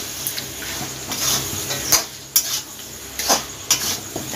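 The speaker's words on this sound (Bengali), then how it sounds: "মাংসটা এবার এতে দিয়ে কষিয়ে নেব।" Meat sautéed in a pot with biryani spices, heard as scattered metallic clinks and scrapes of a utensil against the pot over a low sizzle, close and fairly loud.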